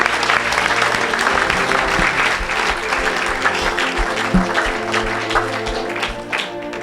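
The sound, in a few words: congregation applauding and cheering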